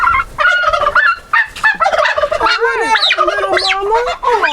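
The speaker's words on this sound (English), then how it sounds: "Turkeys make crazy noises." Turkeys at an urban farm gobble loudly and continuously, several birds overlapping in warbling, rapid calls with no talking.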